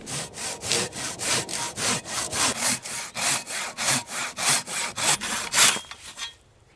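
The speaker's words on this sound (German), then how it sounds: "habe ich jetzt mal meine kleine Säge hier genommen und werde jetzt aus diesem Baum ein, zwei Schneidebrettchen raustrennen" A small hand saw cuts breakfast boards from a tree trunk at a bushcraft camp: about twenty steady, rasping back-and-forth strokes, close and loud, ending abruptly.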